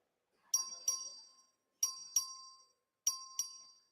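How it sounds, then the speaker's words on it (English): A voting bell rings in the Texas House legislative chamber: three pairs of quick, bright chimes, each ringing out and fading before the next pair, heard alone without speech. "Clerk, ring the bell."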